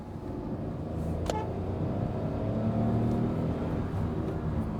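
Hyundai Venue with an iMT clutchless manual gearbox pulls hard at full throttle, a steady droning engine note heard from inside the cabin, with a brief sharp click early on.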